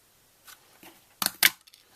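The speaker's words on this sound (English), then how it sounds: "we would like the 1 1/8 scallop punch. 1 1/8 scallop. And we're going to cut that out." A 1 1/8 inch scallop paper punch cutting through card stock gives two sharp crunching clicks close together, after a couple of softer handling taps.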